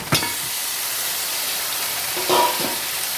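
Two kilograms of chicken drop into a hot pan of cooked ginger garlic paste, setting off a loud, steady sizzle and hiss with a couple of clattering stirs near the start and middle.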